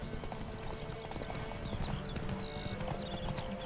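A horse gallops with steady, rapid clip-clop hoofbeats in The Witcher 3: Wild Hunt, loud and continuous under ambient game sound, with an occasional whinny.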